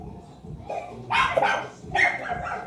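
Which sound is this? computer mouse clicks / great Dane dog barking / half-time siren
great Dane dog barking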